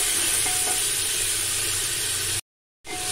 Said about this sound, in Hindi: अभी अच्छे से हम हिला रहे हैं